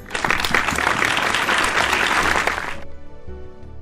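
A crowd at a 75-year celebration breaks into loud, full applause honouring an elder, sustained for nearly three seconds before cutting off abruptly into quiet.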